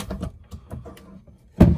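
Overhead cabinet doors in a 2005 Chinook Glacier Class B Plus motorhome give a few soft knocks and handling taps, ending in one louder close-up thump as a door shuts.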